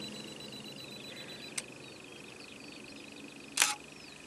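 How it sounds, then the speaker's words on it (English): Two sharp mechanical clicks of a camera shutter, spaced about two seconds apart, in an otherwise quiet room with a faint electronic whine. "press the shutter."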